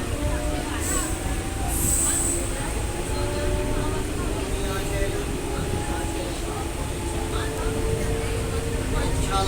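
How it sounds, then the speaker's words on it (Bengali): Moving passenger train heard from inside a carriage, a steady loud rumble and rattle of wheels on track with faint tonal squeals, continuous throughout under a nearby voice. "ট্রেনটাও ছেড়ে দিয়েছে"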